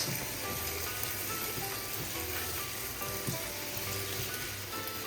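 Vegetables simmer with soy sauce in a pan, producing a soft, continuous sizzle and faint bubbling crackle, fairly quiet and steady throughout with no one talking.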